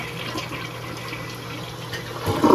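A Mansfield Alto ADA smart height toilet from 2025, fitted with original parts, flushes with a steady rushing hiss of water. A louder gurgle of draining water builds at the end.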